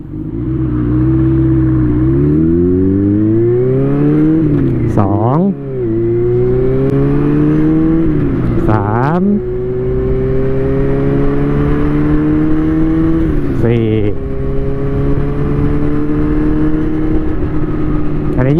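Honda CB400 Four motorcycle engine idling in neutral, then revving up and dropping back repeatedly as it is shifted through its gears, loud and close with a steady four-cylinder drone throughout.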